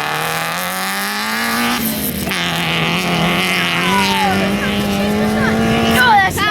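A loud rally car with very little silencing roars past at a rally sprint event, its raw engine note rising and falling steadily as it passes close by.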